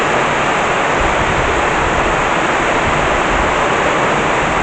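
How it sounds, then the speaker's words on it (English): Runoff from a heavy thunderstorm downpour gushes off roof eaves into a pool, a loud, constant rushing roar like a small river, close and steady with no talking. "you can see the water running off the eaves there into our pool. It's like a river."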